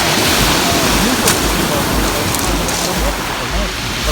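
Sea surf washing onto a pebble beach at Massandra in Crimea in August, a steady broadband wash filling the whole stretch at close range, with no talk over it.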